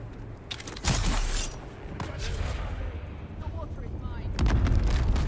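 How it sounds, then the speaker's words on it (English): Grenades explode in the video game Dune: Awakening, a heavy blast followed by rumbling debris and a second boom near the end, with a voice talking throughout. "So many nades."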